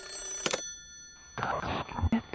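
An in-game telephone rings with a thin, steady electronic tone in the Japanese horror game 怨溺, punctuated by louder bursts and a brief voice near the end.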